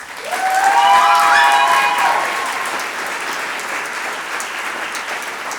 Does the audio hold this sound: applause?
yes